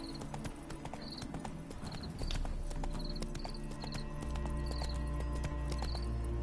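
Steady clip-clop of horse hooves at a trotting pace over a constant low hum, with faint tonal chimes now and then; no voices, in the video game The Witcher 3.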